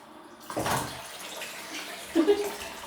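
A kitchen sink tap is turned on and water runs steadily into the basin, a close splashing rush with a brief louder gurgle near the end.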